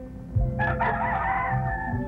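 A rooster crows nearby, a drawn-out call over a steady background hum, with a faint second crow trailing off.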